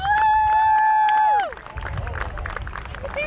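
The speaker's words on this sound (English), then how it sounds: "Let's give them a big round of applause." An outdoor riverside music event crowd claps and cheers for first responders after a loud siren-like wavering tone fades out, leaving scattered applause and crowd noise at a moderate level.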